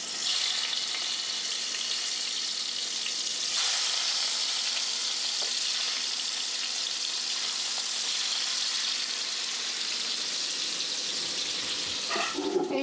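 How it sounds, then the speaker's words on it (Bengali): Hilsa fish rubbed with salt and turmeric sizzles steadily in hot mustard oil, a loud, continuous frying hiss that swells slightly partway through, with a brief clatter near the end. "এবার এই মাছগুলোকে আমি নুন হলুদ মাখিয়ে একটু হালকা ভেজে নেব"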